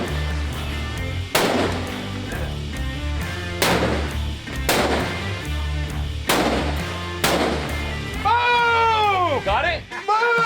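Rifles and pistols fire at an outdoor shooting range in Kodiak, Alaska. Sharp, loud reports crack out at irregular intervals, each with a ringing tail, while people talk and whoop in between.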